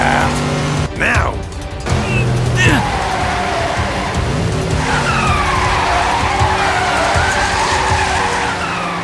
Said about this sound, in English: Don't drift too soon.